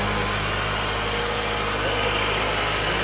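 2023 Kawasaki ZX25R SE motorcycle engine idling at a stable rpm, a loud, steady, dense mechanical drone held close throughout with no pauses.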